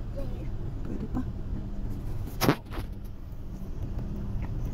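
Inside a car stuck in heavy traffic, a low idling engine hum persists under talk, with a brief mechanical thud and rustle midway.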